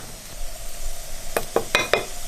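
Something fries in a pot until golden for a sadao dish with sweet fish sauce: a steady sizzle underneath, then several sharp clatters of a utensil stirring and scraping near the end.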